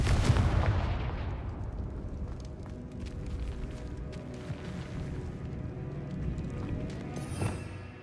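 A Confringo blasting spell explosion in the game Hogwarts Legacy, a loud booming blast at the start that fades into a long rumbling decay, followed by a faint later crackle.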